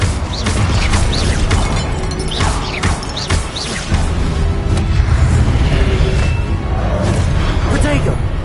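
In Hogwarts Legacy, Incendio and Confringo spells go off as loud booming, crackling blasts, each followed by crashing impacts, with a voice heard over the din.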